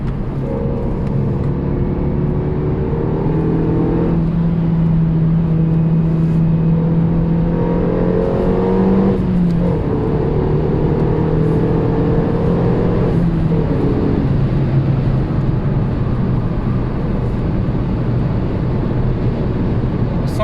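A Renault Megane 3 RS Trophy 265 engine drones steadily for the whole stretch, its pitch rising and falling gently as it drives along a road, with no talking.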